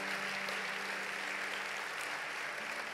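A church congregation gives a steady, even wash of applause at a worship service; the clapping is fairly distant and uniform, with a faint sustained musical tone underneath.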